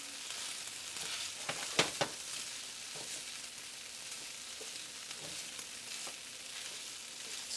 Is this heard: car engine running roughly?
no